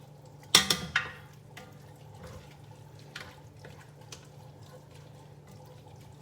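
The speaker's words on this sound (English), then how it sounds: "And then I'm going to add a can. It's a small can. It's 10 ounces of diced tomatoes with green chilies." A small 10-ounce can of diced tomatoes with green chilies goes into a pot of homemade chili: a few quick wet plops and splashes up close at the start, then a quiet low background.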